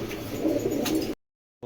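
A racer pigeon coos close by, a soft, throaty warble lasting about a second, followed by silence and the start of another call.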